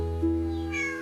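A house cat gives a single clear meow that rises briefly and then trails off, heard close and alone against a steady low hum, with no talking.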